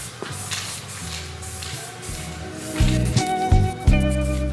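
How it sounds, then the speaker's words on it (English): Short hissing bursts of primer from a spray can coating a bed frame during a van conversion, close and fairly loud, mixed with handling clunks and some low resonant thuds. "now I'm just spraying it with primer"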